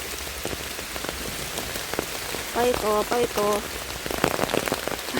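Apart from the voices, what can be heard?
rain falling during mushroom picking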